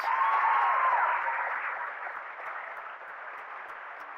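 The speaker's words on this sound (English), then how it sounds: "Let's give all of these Hall of Fame seniors one last round of applause." High school class day audience applauding Hall of Fame seniors, a loud burst of clapping at the start that eases into a softer, steady patter.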